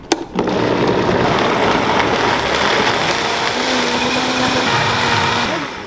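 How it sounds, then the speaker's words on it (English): A Vitamix blender pulverizes homemade salsa with cilantro, whirring up to a loud, dense roar almost at once and running steadily, with a slight pitch shift near the end before it stops. "we're gonna pulverize this in our trusty little Vitamix. I am simply going to turn it on"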